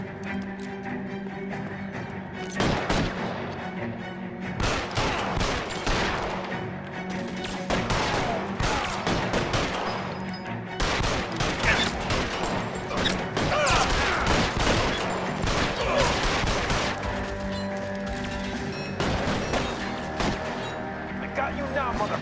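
Dense, sustained gunfire in the video game L.A. Noire, a loud barrage of rapid shots with crashes, continuing almost without pause under a talking voice.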